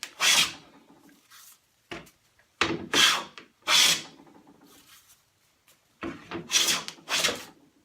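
A hand try plane shaves a resawn wooden board's sawn face in a workshop, giving a series of close, crisp rasping strokes, several separate passes with short quiet pauses between them and no talking.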